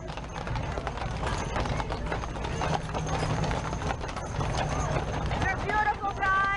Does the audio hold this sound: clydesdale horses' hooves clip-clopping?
yes